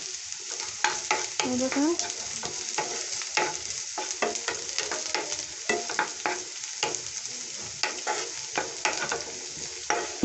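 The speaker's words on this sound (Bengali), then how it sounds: "এই যে লঙ্কা কুচোগুলি, ওটা একটু ফ্রাই করে নেব।" Chopped green chillies sizzling in hot oil in a pan, a continuous crackling fry broken by stirring scrapes and clinks, with a brief spoken word near the start.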